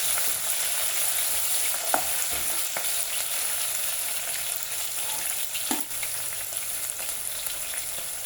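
Onions, green chillies and tomatoes fry in a pan with a constant close hiss, broken by a few brief scraping stirs, and no one speaks.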